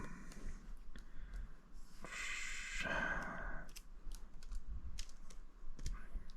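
Someone types on a Japanese computer keyboard at close range in a quiet room, with a quick irregular patter of light key clicks and a brief louder rustle partway through.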